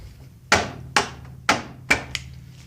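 Four light hammer taps strike an outboard motor extension kit on a 9.9/15 HP outboard, each a sharp, fairly close knock that fades quickly, spaced about half a second apart.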